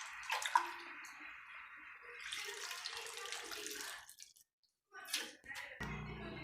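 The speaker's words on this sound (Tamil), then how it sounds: "அந்த புளி 1 கொட்டை புளியையும் நல்லா பிசைஞ்சு அதில் விடணும்." Tamarind is squeezed in water by hand and poured into a village-style herbal fish curry, with close, soft squelching and splashing, a brief pause, then more trickling liquid.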